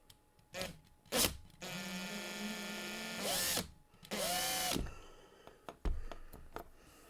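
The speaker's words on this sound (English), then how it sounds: "we have to drill it a little bit" A power drill boring out the rivet of a Hot Wheels Redline die-cast car, with the bit oiled first: several loud whining bursts of varying length, separated by brief pauses and clicks, close to the microphone.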